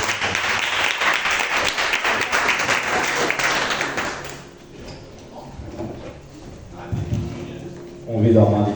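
A church congregation gives a burst of loud, dense applause for about four seconds at an evening service, which then fades into scattered claps, shuffling and the movements of the room.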